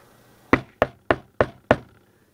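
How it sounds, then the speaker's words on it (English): Five even, firm knocks on wood land about a third of a second apart, close and crisp against near silence. "Knock on wood."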